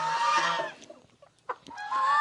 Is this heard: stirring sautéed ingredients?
no